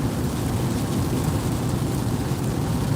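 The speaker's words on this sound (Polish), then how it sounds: "Tak leje." Heavy rain pours steadily on a road trip through desert country toward Phoenix, a dense, continuous roar of drops hitting surfaces close by with no talk over it.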